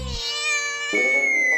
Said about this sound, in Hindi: बिल्ली की आवाज थी